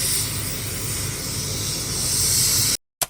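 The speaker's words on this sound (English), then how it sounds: "This is the fascinating process of using steam to shrink the necklines of t-shirts." Steam hisses in a loud, steady rush as it shrinks t-shirt necklines at a London clothing factory, then cuts off abruptly before a brief final puff.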